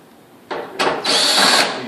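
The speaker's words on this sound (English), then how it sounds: "Remove those 2 screws." A power drill spins up in short stepped bursts, close and loud, backing out screws from a clothes dryer heating element.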